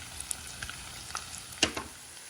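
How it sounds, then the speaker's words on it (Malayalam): Onions, crushed ginger and garlic sizzling in hot oil in a pan, a quiet steady frying crackle with a few sharper pops and stirring scrapes close by. "സവാള ചേർക്കാം. നന്നായിട്ട് ചതച്ച് വെച്ചിരിക്കുന്ന ഇഞ്ചി വെളുത്തുള്ളി ചേർക്കാം."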